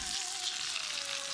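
Hot oil at six to seven tenths heat poured onto red chili powder in a bowl while stirring, giving a steady, loud, close sizzle that stays even throughout, with no voices.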